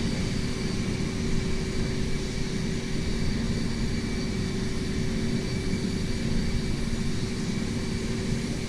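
Steady, continuous cabin drone of an airliner descending in Microsoft Flight Simulator, a broad low rumble with a faint constant tone on top, unchanging and with no voices throughout.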